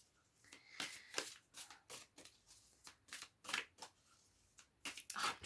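A Deviant Moon Tarot deck is handled and shuffled close by, giving a series of soft papery riffles and card slaps in irregular bursts, quiet and with no talking.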